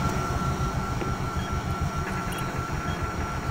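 Steady rumbling train ride in the video game Doom 3, a continuous low mechanical roar with rail clatter and a faint high whine, constant and fairly loud throughout with no talking.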